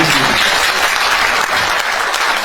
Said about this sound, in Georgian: აი აპლოდისმენტები მეგობრებო